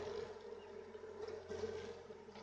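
Irish honeybees hum steadily at an open hive, a soft continuous buzz of many insects close by with no voices.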